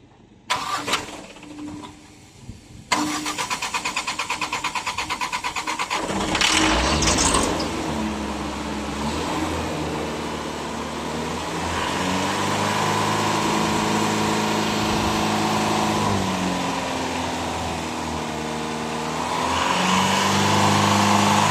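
Truck diesel engine with a freshly cleaned turbo cranking over and catching, then settling into a loud, steady idle broken by repeated revs that rise and fall in pitch, heard close with no talking.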